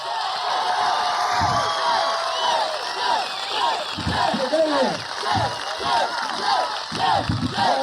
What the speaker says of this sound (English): How about a nice big round of applause